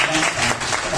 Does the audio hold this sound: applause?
yes